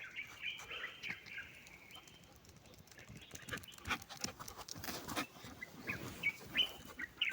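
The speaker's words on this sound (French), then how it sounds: "Le bruit des oiseaux là, qui viennent butiner les dattes sûrement" Birds chirp and tweet intermittently among date palms in Tafraout, Morocco, some calls close and others farther off, over a quiet outdoor background with faint rustling.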